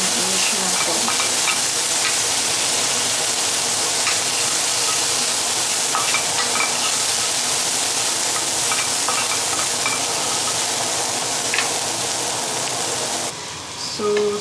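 Chicken seasoned with salt, pepper and paprika sizzles steadily in a hot pan while it is stirred, making a loud, continuous crackling hiss with light scraping through it. No one talks over it.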